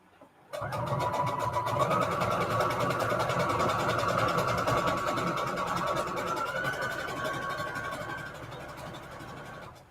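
A sewing machine runs a long, wide scalloped-edge stitch, a steady rapid mechanical whirr that starts abruptly and continues close and unbroken for several seconds before easing slightly.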